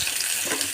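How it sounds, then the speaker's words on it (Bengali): Onions fry lightly in oil in a pan, giving a brief, steady hissing sizzle with no other sounds. "পেঁয়াজগুলো একটু ভেজে নেব হালকা করে"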